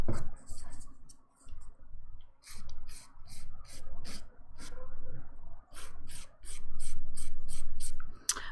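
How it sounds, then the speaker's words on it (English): A 180 grit nail file rasps across a fingernail during a dip powder manicure. Brisk, close back-and-forth strokes come in several rhythmic bursts with short pauses between them, and nobody speaks. "These are a 180 grit file"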